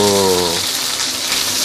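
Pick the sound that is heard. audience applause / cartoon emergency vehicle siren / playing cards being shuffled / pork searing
pork searing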